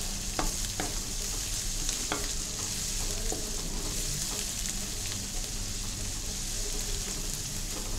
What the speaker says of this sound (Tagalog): So, ilalagay ko na rin yung aking bawang at saka sibuyas.